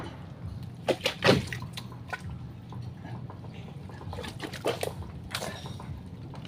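Water sloshes and splashes as a freshly caught fish is set down into water, with a few distinct splashes early on, softer dribbling in between, and another small burst near the end. The sounds are close and fairly quiet.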